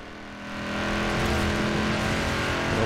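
A Lamborghini with four-wheel drive accelerates on asphalt in Forza Horizon 4, its engine note swelling to a loud, sustained roar with layered harmonic whine, heard alone without any talking.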